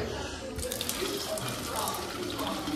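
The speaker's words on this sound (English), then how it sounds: "you can drink the tap water and actually use this fountain to fill up as well" Water streams continuously from a public drinking fountain in the old city of Split, a steady splashing flow that starts abruptly and runs close by while a voice speaks over it.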